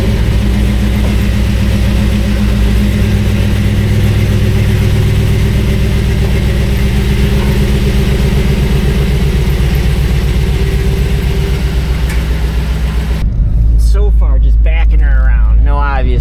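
A cheap budget-built crawler drives with a loud, steady engine drone and gear whine, with the sound dropping and changing near the end as a voice talks over it.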